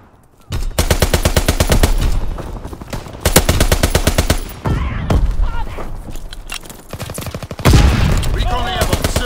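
Fighter plane strafing run in Call of Duty WWII multiplayer, loud rapid machine-gun bursts in several long rattling volleys, with short gaps and game voices announcing between them.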